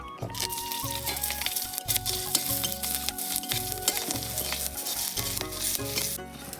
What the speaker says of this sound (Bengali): ওই তেলে আমি শুকনো লঙ্কা আর কাঁচা লঙ্কা ভেজে নেব।